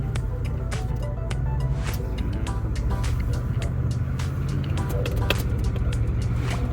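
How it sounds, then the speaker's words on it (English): A 2000 Pontiac Trans Am with a whining turbo drives along, its loud, steady engine drone and road rumble constant throughout, broken by scattered clicks and rattles from inside the car. "the turbo's definitely making a little bit of a whining sound"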